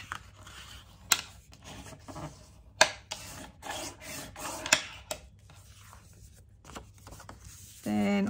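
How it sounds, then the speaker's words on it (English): A folded card base for a Christmas card, 5¾ by 12 inches, is burnished along the fold: soft, close scraping rubs broken by a few sharp clicks, ending in a brief louder burst. "Fold in half and burnish."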